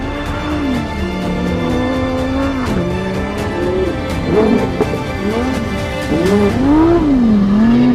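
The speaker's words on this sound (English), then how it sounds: "You drift the car easy around the corner." Lamborghini Huracán Sterrato, a lifted off-road supercar, drifting through a corner in California: loud steady engine drone with rising and falling revs and tire squeal throughout, close and continuous, no talk.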